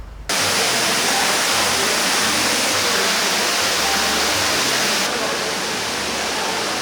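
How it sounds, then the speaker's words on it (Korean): A loud, steady rush of splashing water fills the space, constant and broadband, a large fountain heard from nearby in a two-storey cafe. "대형 분수가 정말 어마어마합니다"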